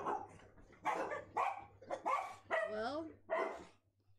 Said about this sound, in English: the dogs think they heard something